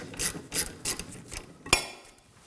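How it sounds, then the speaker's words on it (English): A ratchet with a shallow 14 mm socket loosens the rear brake caliper bracket bolt on a 2016-2020 Kia Sorento 2.4L. Several close, rhythmic ratcheting strokes end in a sharper final click, with no voices. "To remove the bottom bolt, I'm going to use a shallow 14 socket."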